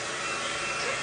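A hair dryer running as a steady, loud, close whoosh that holds an even level throughout the short stretch, with no talk over it.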